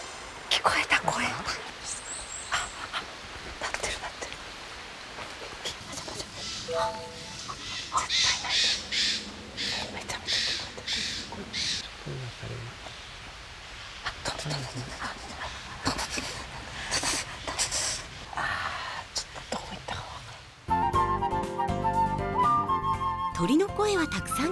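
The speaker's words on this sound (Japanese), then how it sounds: "鳥の声はたくさん聞けたのですが、この日はしっかりと発見はできず。" Birds calling in a forest, repeated loud caws like crows and other scattered calls at varied distances, with a switch near the end to a busier, music-like section.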